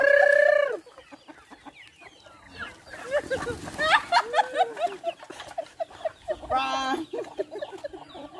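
Chickens cluck and crow in a backyard chick-brooding setup, the loudest call opening the clip, then scattered clucks that continue under people talking.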